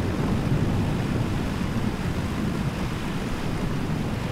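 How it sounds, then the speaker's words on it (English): Stormy ocean surf in a jet ski video game, a dense, steady roar of crashing water and wind that fills the whole stretch at an even, loud level with no talk over it. "Oh my goodness, that's some scary ass wave."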